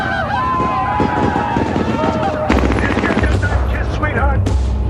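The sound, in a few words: gunfire in film scene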